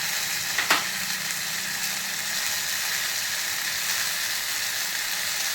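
Sliced onion and pieces of dry coconut frying in a pan for rural-style sambar, a steady close sizzle with a quick clink of the spoon near the start.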